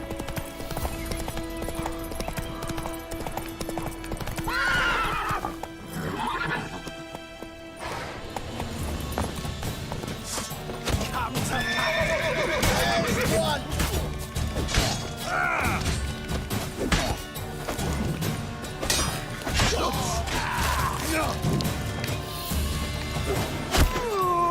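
Roach the horse gallops in a video game with rapid clip-clopping hooves, interrupted by several whinnies and neighs, with mechanical clanks and other game effects mixed in over about twenty-five seconds.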